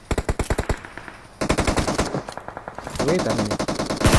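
Rapid bursts of rifle fire in PUBG Mobile, loud and close, with tight repeated shots in several volleys separated by short pauses, and someone speaking briefly over the shooting.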